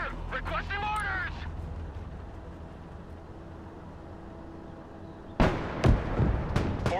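Battle in the military strategy game Broken Arrow: a voice speaks over distant rumbling combat, then sharp explosions and gunshots burst loudly near the end.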